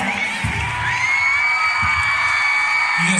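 A school crowd of students at a Marian bonfire gathering cheers and whoops loudly, a sustained high-pitched roar of voices with some scattered clapping, rising to welcome a statue of the Virgin Mary.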